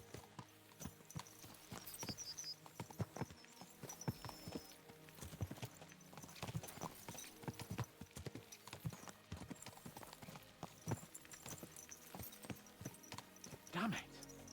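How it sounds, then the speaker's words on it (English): Horse hooves clip-clop at a quick, steady pace in Kingdom Come: Deliverance II, close and continuous through the whole stretch, with a brief whinny near the end and someone talking over it. "Let's really spur these horses on, eh?"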